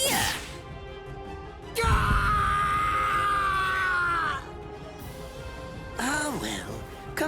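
A man screaming in pain in the Bleach Rebirth of Souls video game, long loud drawn-out cries and groans with a strained, wavering pitch, close, broken by short pauses.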